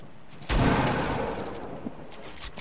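Gunfire in a shooter video game: a sudden loud burst of shots that decays into rumbling echo, followed by a few fainter pops.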